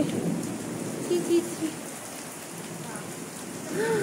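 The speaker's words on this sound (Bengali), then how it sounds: "ওরে বাপরে, অনেক জোরে বৃষ্টি হচ্ছে গো।" Heavy rain pouring down outdoors during a thunderstorm, a steady wash of rainfall heard close, with a few faint tonal sounds over it and no clear speech.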